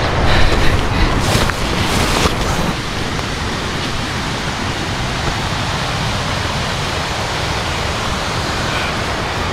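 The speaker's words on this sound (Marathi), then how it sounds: "हा येतो धबधबा" A monsoon waterfall pours with a loud, continuous broadband roar, nearby and unbroken, a little louder in the first few seconds, with no talking.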